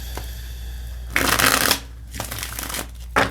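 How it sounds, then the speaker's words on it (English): Two bursts of tarot card shuffling, a longer riffle followed by a brief second one, close up with quiet pauses between. "Let's shuffle one more time."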